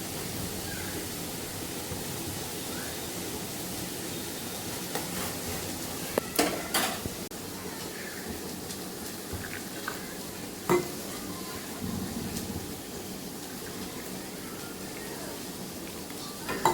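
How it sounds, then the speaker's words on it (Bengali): Soybean chunks and potatoes fry in a pan on a home stove, a steady low sizzle running throughout, broken by occasional clinks of a utensil stirring against the pan. "আর আজকে বানাচ্ছি সয়াবিন আলুর তরকারি, তার জন্য এগুলো ভাজা হচ্ছে এদিকে"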